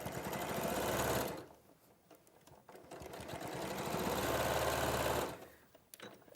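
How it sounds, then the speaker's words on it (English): A sewing machine stitches a strip of fabric in two steady bursts of rapid, even mechanical whirring and clatter, separated by a short, quieter pause, close and fairly loud, with no talking over it. "And then because now I've trimmed that off, and then when you sew that on,"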